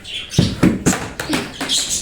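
Birds screech outdoors beside a laundry line, giving several harsh, closely spaced calls in bursts that sound fairly near.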